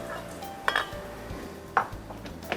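A mixing bowl is handled on a counter, with two clear ringing clinks and a few softer knocks over a quiet kitchen background, close and without talk.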